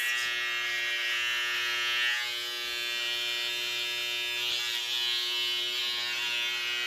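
Electric hair clippers trim across the neckline during an at-home haircut, a steady close-up buzzing hum that holds continuously with slight shifts in pitch and no talking.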